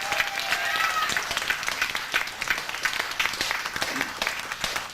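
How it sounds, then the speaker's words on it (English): A crowd at a 2006 peace concert applauds Congressman Jim McGovern, dense and sustained clapping with a few cheers, loud and continuous throughout. "Big round of applause."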